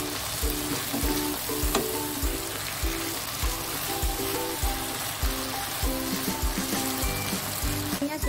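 Sliced cucumber and chives stir-fry in a hot pan, a steady close sizzle with rhythmic scraping taps of the spatula repeating about twice a second, no voices.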